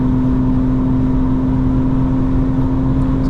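Engine and exhaust of a 2025 BMW M4 Competition xDrive heard from inside the cabin under acceleration, a steady loud drone with a strong tonal hum and some wind noise, no talking.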